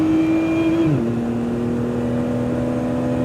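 A 2025 Lotus Emira runs at full throttle on a racing track, a loud steady engine drone heard from inside that dips slightly in pitch after a second and then holds constant.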